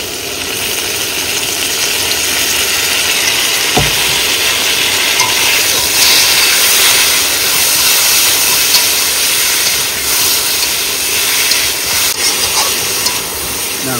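Spices, turmeric, salt, chopped ginger and green chilli sautéing in a pan at an outdoor riverside cooking spot: a loud, continuous hiss and sizzle with occasional stirring knocks, no speech.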